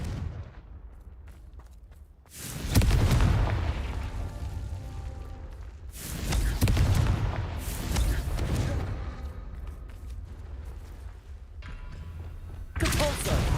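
Three loud, booming blasts from the Confringo fire spell in Hogwarts Legacy, each a sudden burst around two to three seconds apart that trails off into a rumbling, crackling tail.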